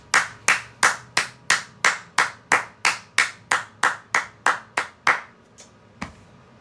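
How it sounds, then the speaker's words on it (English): A single pair of hands claps about fifteen times at a steady, deliberate pace, each clap sharp and close, trailing off with a couple of softer, scattered claps at the end. "I need a full applause."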